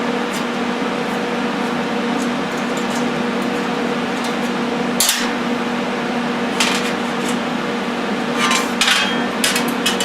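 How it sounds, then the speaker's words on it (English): Clamping a thin sixteenth-inch aluminum workpiece to a welding table beside a Lincoln TIG 200 Squarewave welder: a few sharp metallic clanks and taps over a steady electrical hum from the machine, close by. "So we're just clamping it to the table down here and then squaring up."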